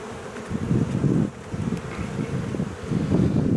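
Honey bees hum in a dense, steady low buzz during a beehive inspection, close to the microphone with slight swells and some wind rumble, no talking.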